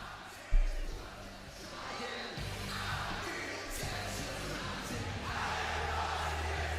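A live WWE Smackdown arena crowd sends up a steady, diffuse roar of cheering and yelling. It starts with one sharp thump, then holds at an even, distant level throughout.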